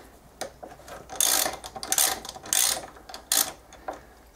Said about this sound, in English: We just gotta undo the two bolts that hold the caliper on.